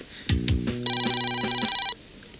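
An old telephone rings in a 1994 Turkish comedy film, a loud electric bell trilling in a continuous burst for about a second after a couple of brief knocks, then cutting off abruptly.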